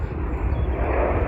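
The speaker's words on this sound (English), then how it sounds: "Excuse the plane noises, I'm parked right next to Glasgow Airport and we've got a jet going off right here" A jet plane takes off at Glasgow Airport, a loud, continuous roar of engine noise that holds steady and close throughout.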